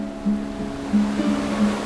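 Rough sea waves wash steadily against a small wooden boat, a continuous mid-level surge of water with a few louder swells rising and falling, no voices.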